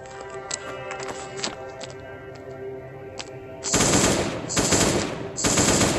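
Gunfire in the mobile game Last Day on Earth, first scattered single shots over a background music bed, then three loud short automatic bursts in quick succession.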